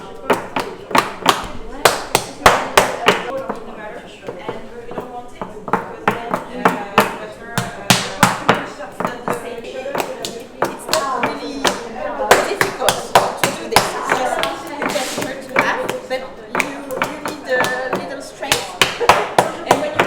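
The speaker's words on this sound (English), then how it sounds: "We shape with pallets, with wooden pallets" Wooden paddles slap and pat a block of Bordier butter at a Saint-Malo butter shop counter, a steady run of sharp, close smacks in quick bursts with brief pauses, while voices murmur in the background.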